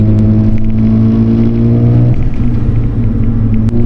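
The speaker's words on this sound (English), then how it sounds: "Okay, let's give it some gas." A Mazda RX-7 rotary engine fitted with oversized fuel injectors drones loudly up close, a steady low rumble with strong tonal bands that shift in pitch partway through as the revs change.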